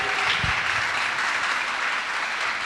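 A church congregation applauds and cheers in praise of Jesus, a dense, steady wash of clapping with a few lower crowd shouts near the start, filling the whole stretch without pause.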